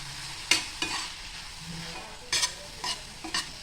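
A spoon scrapes and stirs veg momo stuffing with soy sauce in a pan. Several sharp clinks and scrapes come in irregular bursts over a low sizzle, with no talking.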